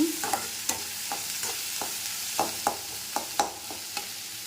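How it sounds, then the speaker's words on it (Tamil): Onions fry in oil in a pan for an egg masala, a steady soft sizzle broken by repeated sharp scrapes and clinks of a stirring spoon, close and fairly quiet with no talking. "இந்த மாதிரி நம்ம ஆனியனை போட்டு நல்லா ஃப்ரை பண்ணிக்கலாம்."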